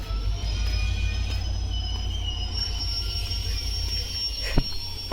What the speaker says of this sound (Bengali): বর্তমানে স্টপেজ দিব ট্রেনটা